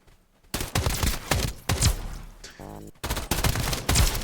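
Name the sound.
machine gun fire from spiders in a video game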